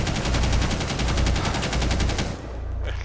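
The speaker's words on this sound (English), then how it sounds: "He was just shooting through the wall." Rapid automatic gunfire in Rainbow Six Siege rattles in a steady, loud burst of evenly spaced shots for over two seconds, then cuts off abruptly into quieter ambience.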